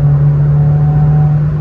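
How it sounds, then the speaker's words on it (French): Renault Clio 16S engine pulling hard at full throttle, a loud steady drone heard from inside the car during a spirited drive, with no talk over it. "Ah là on ouvre les gaz."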